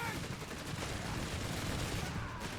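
Boys anti-tank rifle gunfire in the Company of Heroes 3 video game, a dense continuous din of overlapping shots and battle noise that stays loud throughout the short stretch.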